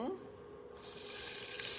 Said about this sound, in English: there's a nice little sizzle there